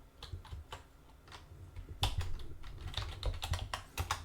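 Fingers type on a computer keyboard in uneven runs of soft, close clicks, starting faint and growing busier and louder toward the end.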